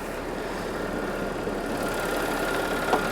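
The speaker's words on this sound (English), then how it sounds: "There's the Supercharged V6 running well. The only noise is the direct injection injectors." A 2011 Audi A6 with the 3.0T supercharged V6 idles with the hood open, a steady close engine hum overlaid by a fine, rapid ticking clatter from the direct injectors.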